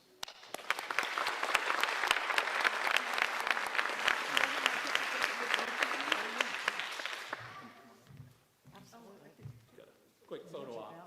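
A crowd at a retiree reception applauds warmly for about seven seconds with dense, steady clapping, then fades to a few scattered claps and quiet voices in the room.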